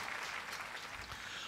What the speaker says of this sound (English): Give them a big round of applause for all the awardees who are today present here.